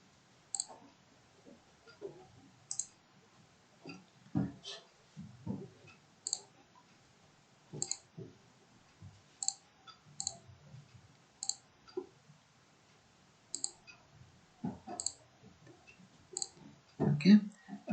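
A computer mouse clicks repeatedly while working through a spreadsheet program, sharp close clicks arriving in irregular bursts with pauses between, over soft background handling noise.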